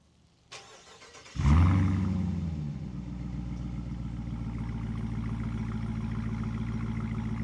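A 2025 Dodge Durango SRT Hellcat V8, started remotely by key fob, fires up with a sharp loud roar after a faint click, then settles into a steady, deep rumbling idle close by, with no talking.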